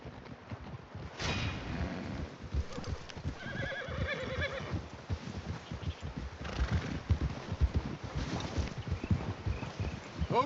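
Horses in the Red Dead Redemption 2 game world, with steady clip-clop of hooves on a trail and a clear neigh early on, set against wind and a low outdoor rumble, no talking.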